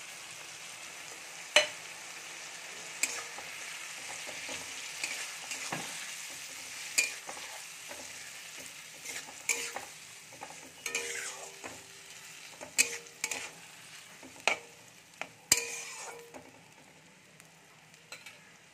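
A fish-head spice paste of salt, turmeric and Kashmiri chilli powder fries in a pan with a steady close sizzle. Sharp clicks and scrapes from stirring break in irregularly throughout, and no one speaks.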